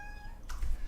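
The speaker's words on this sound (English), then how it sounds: "can you guys hear this damn cat? She's just being loud." A single drawn-out meow from a house cat, fairly near and clear, followed by a brief rustle of movement.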